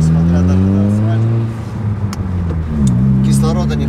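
A car engine labours up a steep asphalt road into a Dagestan canyon at altitude, a loud, close drone of harmonics that dips and then climbs again as the load changes.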